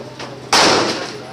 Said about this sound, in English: You can definitely shoot the rifle.